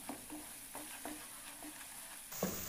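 Spice masala for a rohu fish curry fries in a pan, with a soft sizzle under a regular rhythm of spoon stirring strokes, close and fairly quiet.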